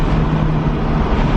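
A nitrous-fed race car running, a loud, steady, close engine roar with no break through the whole short stretch.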